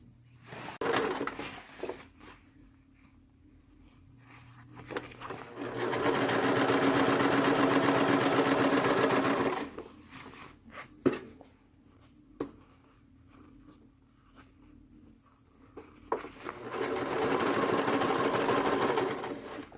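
A sewing machine stitches along the curved neck seam of a stiff-fabric hospital gown. It runs in two long steady bursts of rapid mechanical whirring, with quieter clicks and fabric handling in the gaps between them.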